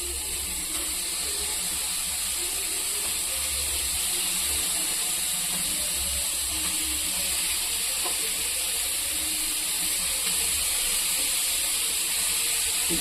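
Boneless chicken cooks in a kadai with a steady, even sizzle and hiss that stays constant throughout, with no voices over it.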